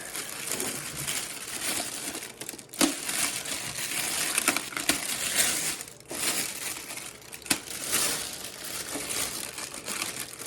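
Tape being pulled and packaging crinkling while unboxing a 1994 Marantz CD-53 CD player, close crackling and crumpling bursts with a few sharper snaps, no talk.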